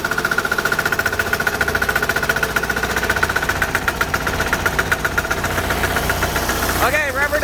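A Bolens diesel garden tractor engine runs loud and close with a rapid knocking chug, revving and then dropping off near the end, outdoors in snow.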